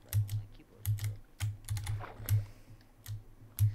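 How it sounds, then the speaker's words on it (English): Rapid, uneven keystrokes clatter on a membrane computer keyboard, a dozen or so soft thumps in irregular bursts, close and clear with no talking. "I can't press F3 on my keyboard."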